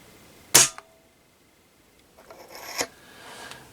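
A suppressed rifle shot is fired through a precision shooting chronograph with an aluminium funnel: one sharp close crack, a brief click after, then a softer rattling mechanical sound and faint follow-up noise, no talking.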